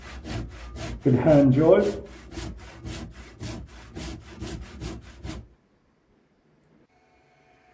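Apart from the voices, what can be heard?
sawing the end off an epoxy resin log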